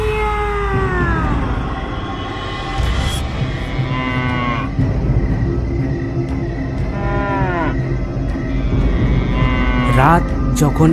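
A cow bellows repeatedly, long loud moos rising and falling in distress, close by over a steady low background rumble.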